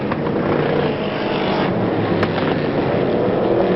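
BriSCA Formula 1 stock cars racing at Northampton in 1985, a dense, loud, continuous roar of several engines close by, steady throughout with no talk.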